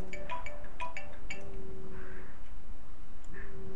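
A phone ringtone in the horror video game Slendy Tubbies: a repeating electronic melody of bright chiming tones over a constant low game hum, moderately loud with no talk.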